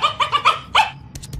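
A cartoon dog barks in a quick burst of four or five sharp yaps, then gives one longer bark and a few faint trailing yips, loud and close with no talk over it.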